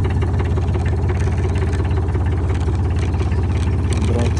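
A Hamm road roller's heavy diesel engine idles steadily, a low rumbling drone with a slight rhythmic pulse, close by and unchanging.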